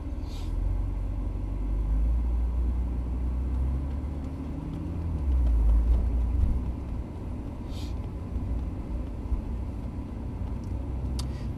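A Porsche with an automatic gearbox pulls away from a standstill, its low engine rumble steady and close, swelling slightly midway before settling back.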